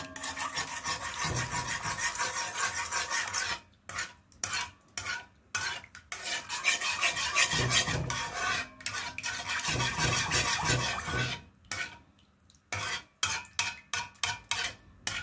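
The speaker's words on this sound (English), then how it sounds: "So I'm going to stir well." A spoon scrapes and swirls steadily around a pot of barbecue sauce, a continuous rasping stir with brief pauses, close up and fairly loud.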